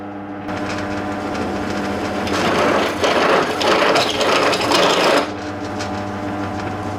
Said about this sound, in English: Screw it on.